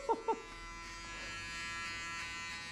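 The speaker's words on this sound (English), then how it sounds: "Actually, I shave his hair off because he make me upset." Electric hair clippers buzzing steadily during a buzzcut, a continuous close hum that follows two brief louder bursts at the start.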